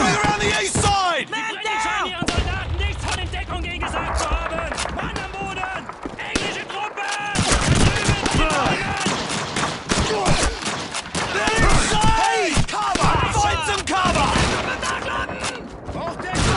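Dense, rapid gunfire from an AK assault rifle and other guns in the Call of Duty 2 video game, British forces in battle. Overlapping bursts and single shots rattle continuously and loudly, with shouted voices mixed into the din.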